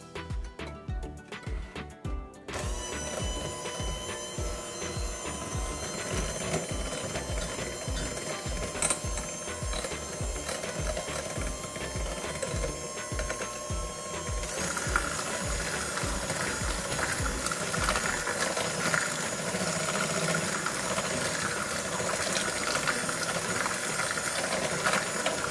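An electric mixer churns banana nut bread batter with a steady, rhythmic mechanical whir and rattle that runs unbroken for the whole stretch, fairly quiet and alone.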